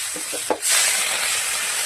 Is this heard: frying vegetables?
yes